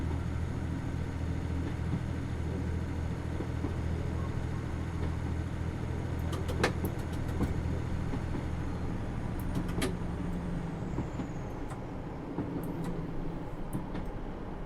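Steady rumble of a train descending a grade in Train Simulator 2020 on the St Ives line, a constant low drone with brief squeaks and clicks as brakes are dabbed.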